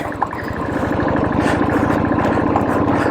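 A motorcycle carrying heavy luggage and a passenger on the mountain road to Badrinath runs with a loud, close, steady engine drone, its rapid firing pulses continuous throughout with no talking.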